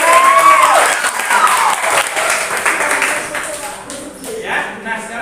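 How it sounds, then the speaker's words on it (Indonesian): A classroom of students claps for a classmate, a dense burst of applause mixed with voices and chatter, close and fairly loud, easing somewhat near the end. "Tepuk tangan buat Arya"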